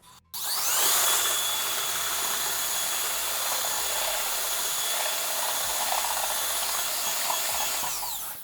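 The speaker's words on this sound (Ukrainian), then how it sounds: "Ну і починаємо ретельно вимішувати суміш." An electric drill fitted with a mixing paddle churns tile adhesive in a bucket, a steady high motor whine running continuously at close range with a scraping, grinding texture from the thick mix, no talking.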